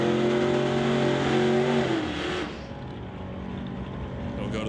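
A Rad Torque Systems S10 drag race car launches hard at Pacific Raceway. Its loud, steady engine roar holds for about two seconds, then drops away into a thinner, more distant drone.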